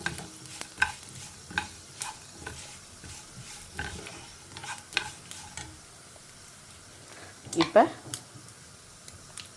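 Mustard seeds, dried red chillies and curry leaves splutter in hot oil over a low flame, giving scattered sharp pops and crackles close by, with a louder burst near the end and a voice speaking at times.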